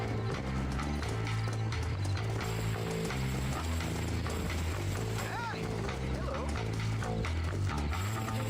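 Horse hooves clip-clop in the Red Dead Redemption video game, a steady rhythmic trot under dense music and game sounds, with someone talking over it.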